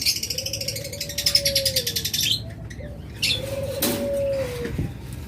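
Large pigeons flap their wings in a rapid, fluttering burst close by, followed by soft, drawn-out coos and some rustling in a loft.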